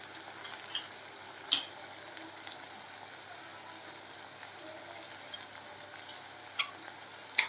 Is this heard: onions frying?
yes